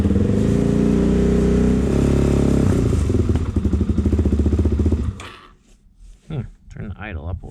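A Suzuki DRZ400S engine runs on half choke while warming up. It gives a loud, close, throbbing idle for about five seconds, then cuts out abruptly, leaving faint clatter and quieter sounds.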